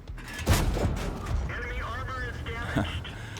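A tank cannon fires in World of Tanks with a heavy boom and rumbling tail, followed by engine drone and tank noises beneath someone talking.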